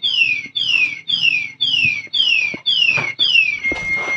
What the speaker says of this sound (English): So, once na ginalaw po siya, mag-a-alarm po siya.